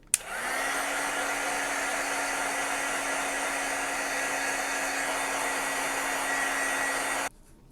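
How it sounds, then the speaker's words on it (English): A handheld crafting heat tool blows hot air to dry distress ink on a painted card, giving a loud, steady whirring blow that runs close for about seven seconds before switching off. "Just going to hit this just very, very quickly with my heat tool."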